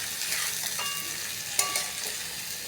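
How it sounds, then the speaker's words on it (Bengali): Washed rice frying with spices in a pan gives a steady, close hiss of sizzling oil, marked by a couple of brief clinks from stirring. "চালটা দিয়ে এবার আমি ভালো করে ভাজবো।"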